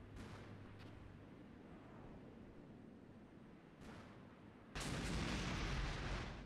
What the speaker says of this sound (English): The Hueys are definitely firing at something.